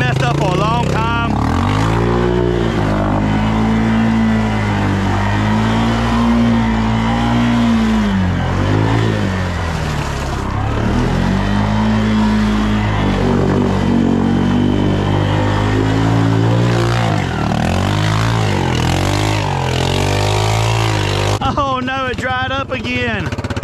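A Honda Fourtrax 300 ATV mudding through a deep hole, its engine revving and labouring in long rising and falling surges, loud and near, with a voice talking over it.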